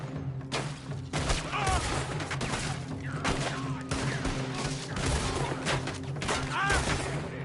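Gunfire in Red Dead Redemption 2, repeated sharp shots and volleys in a tense western firefight, loud and close, with characters shouting between the bursts.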